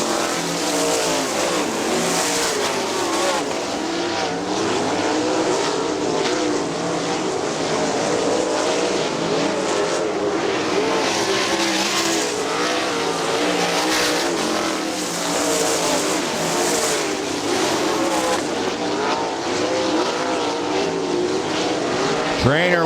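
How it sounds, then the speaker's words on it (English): Sprint cars racing at Kokomo Speedway, a continuous loud engine roar that rises and falls as cars pass, with a commentator talking over it throughout. "Reed gets by Huskin by just a whisker down the main straightaway"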